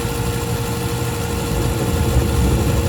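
The noisy induced draft blower of a Trane gas pack unit runs as a loud, steady, close rumbling drone with a constant hum, growing slightly louder toward the end.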